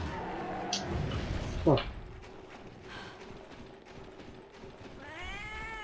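A house cat meows close by over background game sounds, with a few thumps and a rising, wavering cry near the end.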